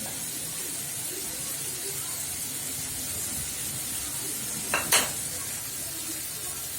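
Prawn and vegetable dish frying in a pan with milk and tomato sauce added, a steady close sizzle with a brief clatter of stirring near the end.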